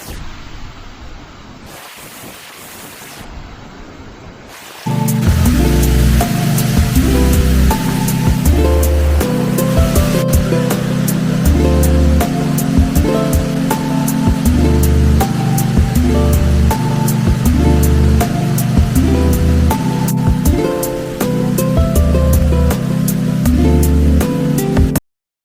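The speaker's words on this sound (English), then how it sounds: "The fall's total height is 20 meters 66 feet and 40 meters 130 feet in width, making it the broadest waterfall in Taiwan." Rushing water at Shifen Waterfall in Taiwan, a broad 20-meter fall about 40 meters wide, roars as a steady, dense wash of loud noise after a quieter opening few seconds, with no voices.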